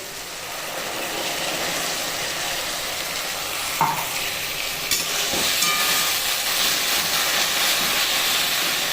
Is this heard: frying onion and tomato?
yes